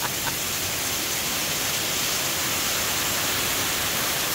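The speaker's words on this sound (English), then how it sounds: "You see it all pouring off my roof up there." Torrential summer rain in a Southern flash storm pours off a house roof with a clogged gutter, a steady dense roar of falling water with no pauses and no talk.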